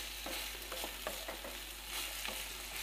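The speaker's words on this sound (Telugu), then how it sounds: "మధ్య మధ్యలో ఇలా కలుపుతూ ఫ్రై చేసుకోవాలి" Carrot and grated coconut curry fries in a pan while a spoon stirs it, scraping in short irregular strokes over a quiet sizzle, close by with no voices and a faint low hum underneath.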